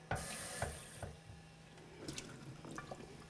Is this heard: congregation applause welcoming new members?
no